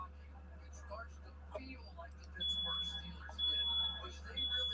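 Fire alarms chirp with a faint, high, intermittent beep in short repeated bursts, heard under ongoing conversation and a steady low hum in the room.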